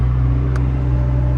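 Steady, loud engine hum with a low droning rumble from a Ferrari 458 Spider with an iPE exhaust, idling or cruising close by, with no talk.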